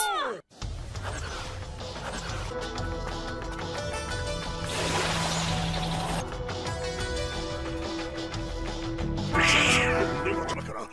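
Cat meows in a Kazakh-dubbed Naruto anime scene come through repeatedly over a busy, layered background of voices and music, with one louder, strained yowl near the end.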